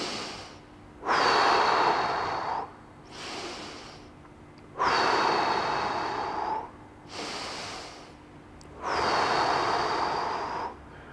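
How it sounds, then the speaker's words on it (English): Slow, deep breaths during a chest and pec stretch: three long, loud exhale-inhale cycles with strong airy rushes, close to the ear and with no talking. "Big, big deep breaths, stretching through there."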